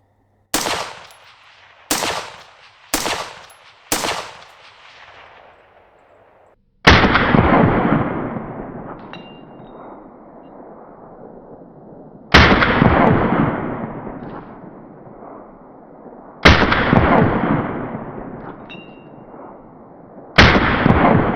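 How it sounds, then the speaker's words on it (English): Rifle shots with tracer rounds fire at a target 400 yards out at night. Four quick sharp cracks come first, then four louder, widely spaced booms whose echoes roll out for several seconds. No voices. "I'm probably not gonna hit anything, but I'm gonna shoot at 400 yards."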